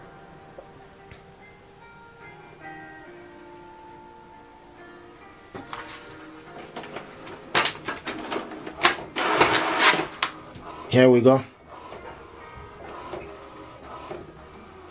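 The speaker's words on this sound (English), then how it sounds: "So what you are printing out right now is photo." An HP DeskJet inkjet printer whirs and clatters through a photo print run, with bursts of mechanical buzzing and a loud feed sound near the end; a voice speaks briefly.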